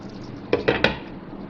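A serving spoon knocks against a metal pot three times in quick succession as cooked chickpeas are dished out, each clink sharp and close, with a quiet room hum around them.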